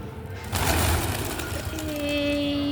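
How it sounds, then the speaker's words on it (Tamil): Pigeons on a rooftop terrace coo softly and shift about, and a low, drawn-out coo rises clearly near the end over steady outdoor ambience. "எவ்வளோ புறா இருக்காங்க பாருங்க"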